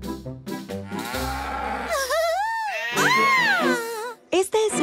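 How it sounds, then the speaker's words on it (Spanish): A cow's long, drawn-out moo rises and falls in pitch, bending through several swooping calls with a short break near the end, heard close and loud without other sounds. "Tu amiga la vaca hace la leche que nos estamos tomando y hace mu todo el día"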